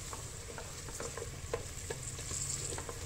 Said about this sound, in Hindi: थोड़ी देर इसी तरह से आपने इनको भून लेना है